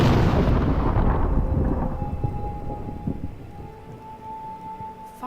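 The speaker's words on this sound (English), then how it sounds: "Fireworks. Maybe they're celebrating something." Fireworks in the Dreamfall game: a big booming burst opens loudly, then rumbling crackles and echoing decay fade slowly, with a faint sustained tone lingering as the noise thins out.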